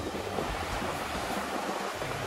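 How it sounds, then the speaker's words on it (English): Steady, rushing wind noise buffets the microphone throughout, a broad continuous roar with no voices. "It is pretty windy today"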